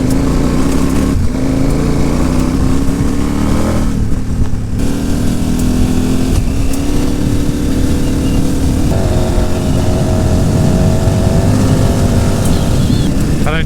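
A large adventure motorcycle rides on gravel, its engine droning steadily and loudly, with changing pitch and tyre and wind noise all the way through.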